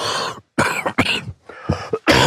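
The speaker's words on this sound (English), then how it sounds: "could you try not to cough on the" Several harsh, wet coughs in a row, close and loud, broken by brief pauses between fits.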